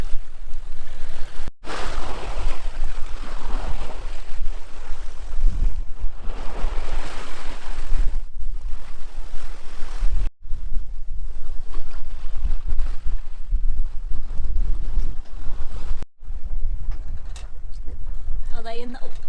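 Rough, spiky water of a tidal race in full flow at the Raz de Sein off Brittany, heard from a boat as a loud continuous roar of breaking waves and wind, with brief dropouts.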